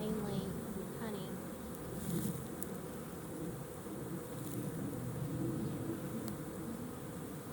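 Honey bees at an open hive during an inspection make a constant low buzzing drone, with a few individual insects passing close by.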